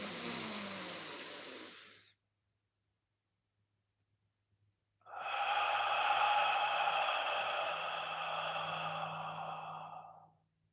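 Two deep breaths during a guided breathing exercise, close and clear: a breath that trails off, about three seconds of silence, then a long, hissing exhale lasting several seconds.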